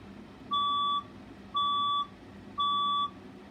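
Fire alarm test tone sounding three evenly spaced electronic beeps, each about half a second long, clear and steady over faint background hum.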